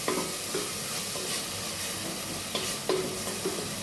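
Carrots and vegetables frying in a pot as the base for mutton nonbu kanji, a constant sizzle with repeated scraping strokes of a spoon against the metal, close and fairly loud, with no one speaking.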